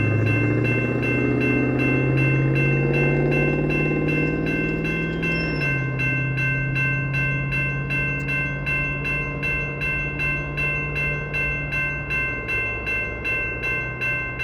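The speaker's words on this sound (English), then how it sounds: "That auto train was booking, I'd say, at least 75 miles an hour." A fast Amtrak Auto Train passes in Palatka, Florida, with a loud, close roar of engine and wheels, then a long run of rhythmic clickety-clack from the railcars that fades slightly toward the end.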